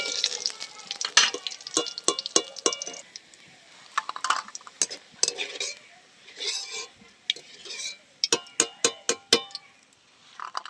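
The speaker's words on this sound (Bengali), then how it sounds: "বড়িটা আমি একদম হালকা করে ভেজে নিচ্ছি" Bori lentil dumplings fry lightly in a pan, with soft sizzling under frequent sharp clinks and scrapes of a spatula against the pan, irregular and close.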